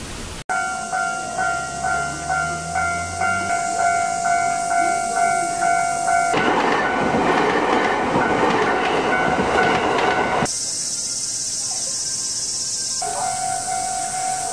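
A train arriving at Kitakamakura station in Japan clatters rhythmically over rail joints, slowing beneath steady insect-like station tones, then the sound shifts to rumbling wagons and ambient platform noise with chirping, and no one speaks.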